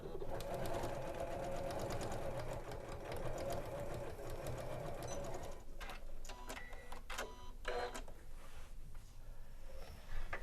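A Janome sewing machine runs a straight stitch on interfaced bag strips, whirring steadily and close for several seconds, then stops and gives way to scattered handling clicks and light rustling.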